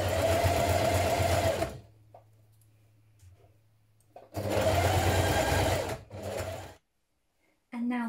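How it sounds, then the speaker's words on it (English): Sewing machine zigzag-stitching near a fabric edge for a loungewear garment, running in two steady close bursts of several seconds with a low hum and quiet gaps between them. "we're going to stitch or zigzag stitch it close to the edge"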